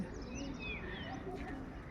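Soft pigeon coos and faint chirps from a pigeon house in a large garden at a hostel in Chittorgarh, over a steady outdoor background hum, low and somewhat distant.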